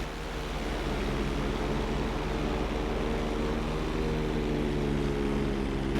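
A fixed-wing plane flying in Grand Theft Auto V flight school, with a steady, loud propeller-engine drone and rushing air holding constant, alone without voices.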